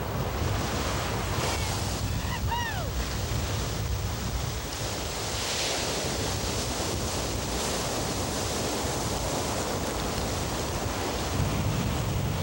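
Ocean surf washing steadily onshore with broadband roar and wind buffeting the microphone, continuous and fairly loud, a brief whistle-like tone near the start.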